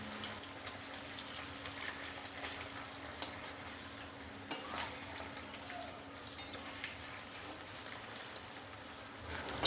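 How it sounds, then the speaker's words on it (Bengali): Paneer frying lightly in oil makes a faint, even crackle that stays low and steady throughout, with a couple of small taps. "পনিরটা একটু হালকা করে ভাজবো।"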